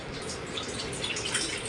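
Water pours in a steady, close splashing stream while lemon water is being made, continuing unbroken with no talk.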